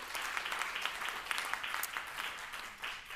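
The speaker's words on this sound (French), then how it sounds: "je pense qu'on peut applaudir la commune de Colomiers" Quiet, steady applause from a conference audience at a round-table session, honoring the town of Colomiers, with soft overlapping claps continuing throughout.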